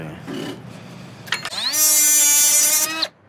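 A power tool whirs up and spins steadily for about a second and a half while unscrewing a stubborn part on a Suzuki Samurai, following brief clicks and quiet handling noise, then stops abruptly.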